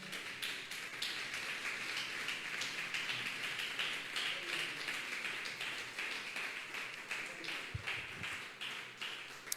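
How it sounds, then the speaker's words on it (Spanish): Church congregation applauding during a worship service, a steady quiet patter of many hands clapping together with distinct individual claps standing out, continuing evenly throughout and somewhat distant. "Denle ese aplauso al Señor."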